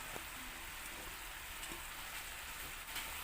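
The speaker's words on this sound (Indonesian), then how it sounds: "Aduk hingga tercampur merata dan masak hingga airnya habis." Banana heart and cassava leaves being stirred and cooked in a pan in a simple home kitchen, giving a steady, fairly faint sizzle and bubbling hiss with a few soft scraping touches, close and continuous without speech.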